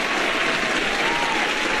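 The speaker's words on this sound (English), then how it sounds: "let's give it a round of applause real quick" A live audience claps and cheers in a continuous, dense burst of applause at a show, loud and steady throughout with crowd noise and no distinct talk.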